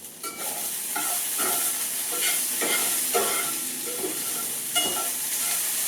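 Food is stirred in a hot skillet for a skillet meal of mushrooms and bacon. A loud, constant sizzle runs under repeated rhythmic scrapes and knocks of a utensil against the pan, and there is no speech.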